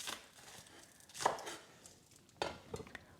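A knife chopping green onions on a cutting board, a few distinct cuts spaced apart, close and fairly quiet with no talking.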